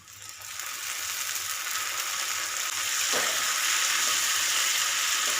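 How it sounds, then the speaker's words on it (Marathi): Tomatoes and onions fry in a pan for a chicken fry, a constant close sizzle that grows slightly louder, with one brief scrape of stirring midway. "टोमॅटो देखील आपल्याला चांगले भाजून घ्यायचे"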